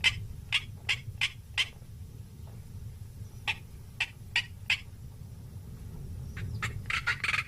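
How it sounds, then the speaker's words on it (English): A male black korhaan calls over Kalahari dunes in the early morning, a series of sharp, rasping croaks in quick bursts of four or five, repeated three times over a low wind-like background. "A male black coron breaks the early morning calm as he displays above his territory in the dunes."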